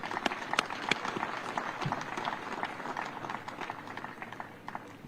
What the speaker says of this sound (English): May we clap for the workers of Zambia.